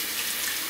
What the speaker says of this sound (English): So I'm actually running, I guess, more of a hot water right now.